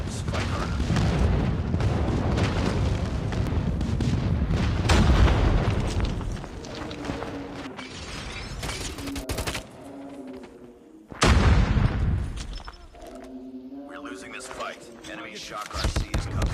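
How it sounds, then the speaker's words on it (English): Airstrike explosions in a video game, heavy booms and rumbling blasts repeating over the battle with gunfire, a big close blast midway, under constant voices and game chatter. "Enemy airstrike incoming."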